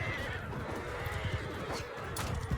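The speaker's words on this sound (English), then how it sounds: "you see that horse in the background doing a mega flip?" A horse neighs amid battle in the video game Mount and Blade Bannerlord, a whinny set within dense clashing combat noise and hoof-like thumps, fairly faint in the mix.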